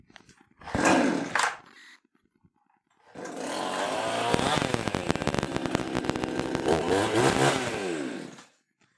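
A cheap Chinese eBay chainsaw with a poorly tuned carburettor coughs briefly, falls silent, then starts and runs loud and close for several seconds, its engine revving up and down before cutting off.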